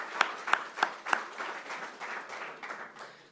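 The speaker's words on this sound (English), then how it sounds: "Let's give them a round of applause." An audience at an officials' announcement for the Food Lion parent company claps: a few sharp, separate claps at first, then a softer, scattered patter of applause that fades slightly, heard from a moderate distance.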